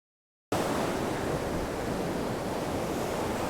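Ocean surf on a beach during shore fishing, a loud, steady broadband wash of breaking waves and wind that starts suddenly and continues without pause, with no voices.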